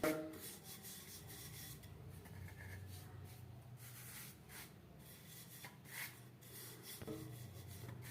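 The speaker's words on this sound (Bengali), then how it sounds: "এইভাবে হালকা হাতে চাপ দিয়ে বেলে নেব।" A rolling pin rubs and scrapes softly back and forth over stuffed cauliflower paratha dough in a kitchen, a faint, continuous rasping with light pressure.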